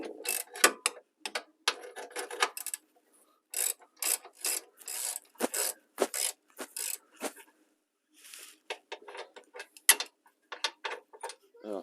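Ratchet wrench clicking in bursts on a Saab 9-3 NG with the B207 engine while the engine mount bolts are worked loose, close and dry, with short pauses between runs of rapid ratcheting.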